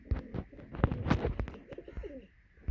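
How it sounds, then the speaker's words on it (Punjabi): A pigeon coos close by in a short series of soft, throaty calls, with a few light knocks and rustles around it. "ਸਾਹਮਣੇ ਬੈਠਾ ਜਿਹੜਾ ਆਪਣਾ ਕਬੂਤਰ ਇਹ ਤਾਂ ਕਬੂਤਰ ਹੀ ਹੈ"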